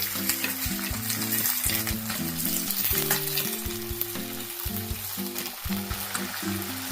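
Four large tomatoes cook in a pan over a medium flame for chutney, producing a dense, continuous sizzle with occasional stirring sounds, close and steady beneath soft background music.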